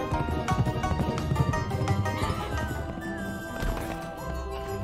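Horse hooves clip-clopping at a gallop in the video game Pumpkin Jack, a steady rapid rhythm close up and loud, layered over game music with an occasional whinny.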